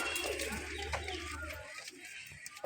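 Big-size Kalishira pigeons coo softly in a low, throaty murmur amid a busy, noisy background, close but not loud.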